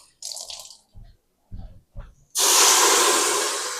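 A few soft clinks and taps, then a sudden loud, steady sizzle of water hitting a hot pan while cooking garlic and onions that continues, fading only slightly.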